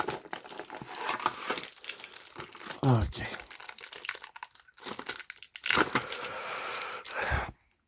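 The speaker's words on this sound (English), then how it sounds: "I will simply cut this tape with the scissors" Scissors cutting packing tape and paper crinkling as a package holding a fountain pen collection is unwrapped; close, irregular crinkles and tearing bursts, with a brief spoken word.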